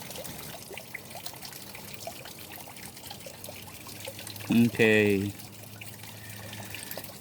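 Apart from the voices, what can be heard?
running water from a hose while panning gold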